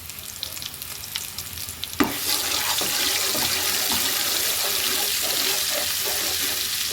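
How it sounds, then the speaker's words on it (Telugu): Onions fry in a pan with ginger, garlic and coconut paste for biryani. A soft sizzle jumps to a loud, steady crackling hiss after a sharp clatter, with stirring scrapes throughout. "ఆనియన్స్ బాగా ఫ్రై అయిన తర్వాత అల్లం వెల్లుల్లి కొబ్బరి పేస్ట్ వేసేసుకొని ఇంకో టూ మినిట్స్ బాగా ఫ్రై చేయండి"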